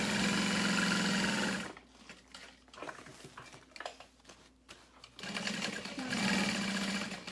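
A sewing machine stitching a seam on a small crossbody bag, fast steady whirring bursts at the start and end with a quieter pause of fabric handling and clicks in between, close and clear.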